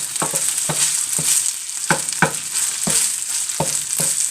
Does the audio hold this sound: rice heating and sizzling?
yes